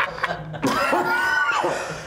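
Coughing from a person in a podcast-style conversation: a short cough near the start, then a longer strained, voiced burst in a close, dry room.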